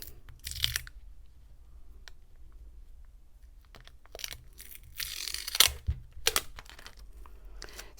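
Wide clear adhesive tape pulled and torn off the roll while making a handbag from nautical cord, with a few sharp, crackly rips separated by quiet pauses, close and moderately loud.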